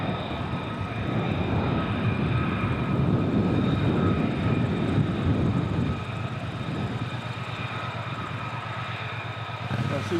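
A military tanker aircraft crosses over RAF Lakenheath, its engines giving a steady low roar with a faint tonal whine that eases slightly partway through, heard from a distance with no speech.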